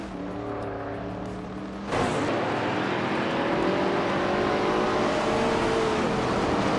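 Race car engines droning, including a 1974 Fiat 131 Abarth, a steady engine tone that jumps suddenly into a louder, fuller roar and then holds.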